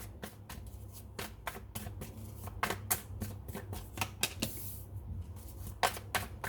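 Tarot cards being shuffled by hand give a rapid, uneven run of crisp riffling snaps and flicks, close and clear with no voices.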